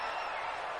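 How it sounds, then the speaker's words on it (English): Steady roar of a stadium crowd cheering in an American football video game, Falcons versus Saints, a dense, continuous wash of distant voices holding level throughout the short moment. "Can you hear the crowd every time?"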